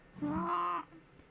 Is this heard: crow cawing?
yes